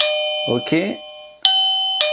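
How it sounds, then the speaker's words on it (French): Default chime of an Aosu Video Doorbell Ultra base unit, sustained bright tones ringing out twice with a short voice briefly speaking over the start. "Donc ça, c'est la sonnette par défaut."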